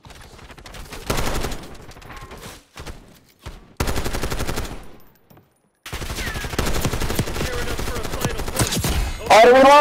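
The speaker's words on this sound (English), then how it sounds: "Gunfight." Gunfire in a Black Ops 6 beta gunfight: loud bursts of automatic fire broken by short silent gaps, then sustained shooting and a sharp rising burst at the end.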